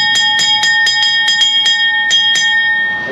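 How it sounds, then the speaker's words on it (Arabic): A handheld bell on a Red Sea diving safari boat rung by the cook to call people to lunch, about ten quick bright metallic strikes in an even rhythm, loud and close with a lingering ring. "أنا طابخ لازم أنا أطق الجرس"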